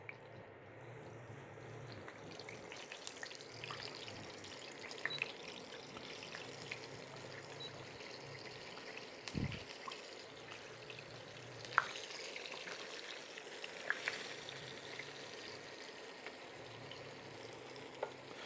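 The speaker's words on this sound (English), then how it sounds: "we're gonna get ready to deep fry" Battered pork chops deep-fry in a pan of hot oil, giving a steady, soft sizzle and crackle with occasional louder pops and a brief clunk, heard close with no talking.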